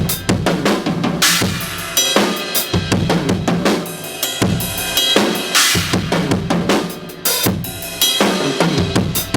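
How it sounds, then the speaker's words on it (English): Right hand alone moving across different drums and cymbals on a drum kit in a linear pattern, quick dry hits mixed with bright cymbal crashes and washes, loud and close with an uneven, shifting rhythm. "I could take my right hand on different drums and cymbals and get different sounds like this"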